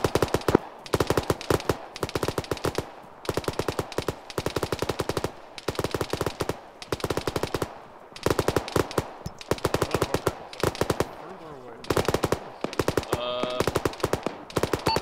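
Machine guns fire during an infantry assault on a bunker in the military game Arma, sounding as long, loud, rapid bursts of automatic gunfire repeating through the whole stretch with only brief gaps between volleys.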